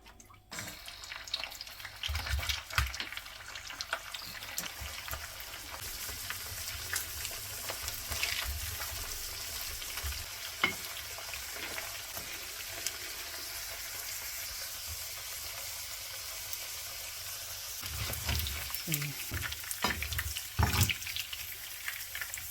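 Peppers frying in a pot for a local pepper stew, a steady sizzle and hiss running throughout, with a few louder bursts and clatters near the start and end.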